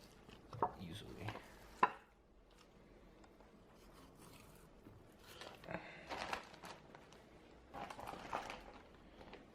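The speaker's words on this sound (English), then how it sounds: "when it's a sharp knife, you can really notice it's cutting" A sharp knife slices through raw beef being cut against the grain for jerky, producing quiet, close chopping and scraping strokes against a board in irregular bursts.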